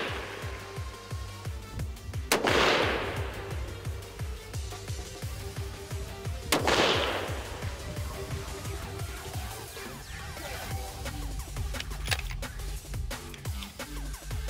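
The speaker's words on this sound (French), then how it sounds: "3 autres shots à 100 verges." A CVA Cascade 6.5 PRC hunting rifle fires slowly at a target 100 yards away, giving loud, sharp reports several seconds apart, each with a short echoing tail, over a low rumbling background.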